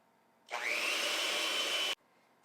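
An electric mixer whirs into dessert batter, switching on abruptly for about a second and a half of loud, steady motor hum close by, then cutting off sharply.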